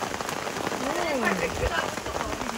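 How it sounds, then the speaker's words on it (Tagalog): Heavy rain suddenly pouring onto a garden barbecue on a rainy day in England, a loud, continuous hiss of drops hitting surfaces close by, with voices talking over it throughout. "Oh no, malakas talaga yung ulan, biglang bumuhos."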